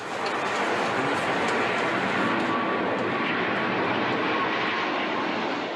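An easyJet airliner passes overhead with a loud, steady jet roar that holds at an even level throughout.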